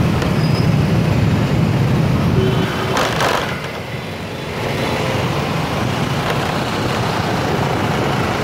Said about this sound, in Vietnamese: Rồi qua đường đây xe lửa luôn.